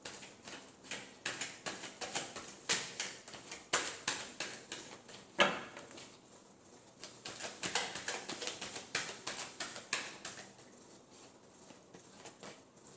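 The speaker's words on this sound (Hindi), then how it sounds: "Last shuffle." Tarot cards are shuffled in a run of soft, crisp riffling bursts and light patters, close and fairly quiet, repeating irregularly over several seconds with no voice.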